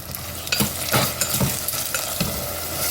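Onions and tomatoes sautéing in a pan for a tamarind okra curry, a steady close sizzle cut by several sharp spoon scrapes and taps against the pan.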